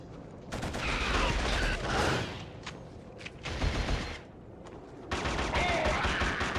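Rapid bursts of automatic gunfire crackle and rattle in a first-person shooter video game, with several separate volleys broken by short pauses and a faint voice now and then underneath.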